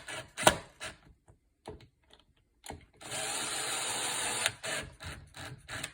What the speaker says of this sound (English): grab your drill, tighten back up